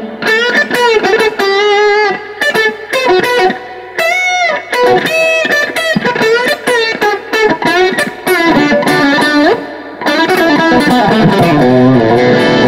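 Electric guitar through a ZOOM G2 Four multi-effects unit plays quick, bright phrases with ringing notes that hang and blur into a spacious reverb tail, loud and up close.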